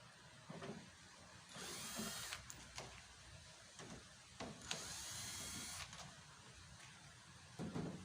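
A power drill whirs in two short bursts, removing bolts from a pickup truck's tailgate handle, with clanks and handling noises of metal parts between runs in a quiet space.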